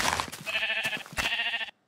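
A sheep in Minecraft bleats twice in quick succession, a clear, wavering baa heard close and alone before the sound cuts off.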